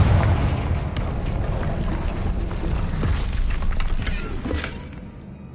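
A Confringo blasting spell in the Hogwarts Legacy video game sets off a deep rumbling explosion that booms at once, holds with creaking debris and then fades out, with no talk during the blast.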